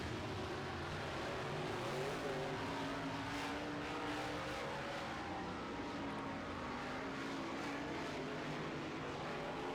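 A pack of A modified race cars roars through a heat race on a track, a dense, continuous engine drone with shifting revving tones, heard at moderate distance and fairly faint overall.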